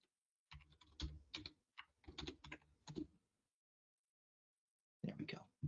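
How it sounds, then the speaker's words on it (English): Login credentials typed on a computer keyboard, with clustered bursts of key clicks over about three seconds, a pause of silence, then a renewed flurry of keystrokes close and distinct. "I have to type it in correctly."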